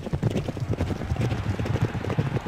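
Horses gallop in the Derby Owners Club horse racing video game, a dense, rapid drumming of hoofbeats running continuously and close.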